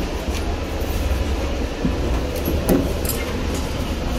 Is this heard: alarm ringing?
no